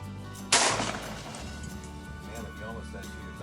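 A single loud shotgun blast at a sporting clays target, a sharp broadband crack that rings out and decays over about a second, followed by people talking quietly outdoors.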